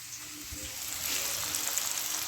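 Sliced onions frying in a pan for a chicken dish, a soft continuous sizzle and crackle throughout, fairly quiet and steady, with no talk.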